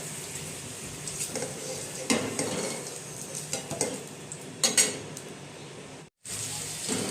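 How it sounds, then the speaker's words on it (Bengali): Fried ash gourd pieces stirred and scraped in a hot pan with a spatula, light sizzling under repeated metallic scrapes and clinks, a few sharper knocks as pieces are lifted out, then a brief silence. "এখন চাল কুমড়োগুলি আমি নামিয়ে নিচ্ছি।"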